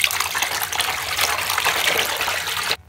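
Warm water gushing and splashing steadily into a basin as ordinary washing powder is dissolved for soaking white canvas sneakers, loud and continuous, then cutting off abruptly near the end.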